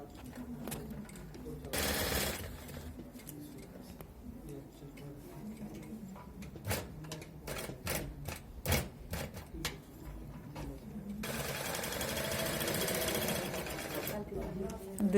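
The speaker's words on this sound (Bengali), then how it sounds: "সব চেনের রাউন্ডটা লাগানোর পরে দুই পাশটা সেলাই করা হচ্ছে" An industrial sewing machine stitching down both sides of fabric after a zip has been attached, heard as rapid ticking bursts that start and stop, with a voice talking in between.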